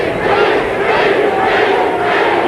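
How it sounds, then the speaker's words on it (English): A boxing arena crowd in Sacramento at a welterweight title fight roars steadily, a loud, continuous wall of massed voices swelling slightly in waves, with no break for the full stretch. "You can hear that crowd from Sacramento roaring in the background"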